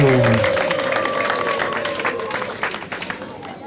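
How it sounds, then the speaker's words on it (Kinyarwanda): Wedding guests at a church and reception clap steadily as a crowd, with high trilling ululation cutting above the applause near the start, then fading into continuous, fairly loud clapping and crowd noise. "twongere amashyi impundu zivuga urwungu"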